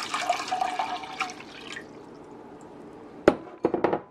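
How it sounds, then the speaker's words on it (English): Four cups of water poured into a saucepan while making hummingbird food: a bright gurgling pour for about two seconds, a quiet pause, then a few sharp clinks near the end. "you simply need 4 cups of water. You're going to pour that into"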